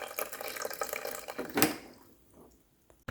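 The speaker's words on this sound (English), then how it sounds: "You can see this stream from that cold water." A stream of water runs from the spout of a cold water cooler dispenser being refilled and rinsed after bleach cleaning, a steady close splashing pour that fades out, followed by a brief knock near the end.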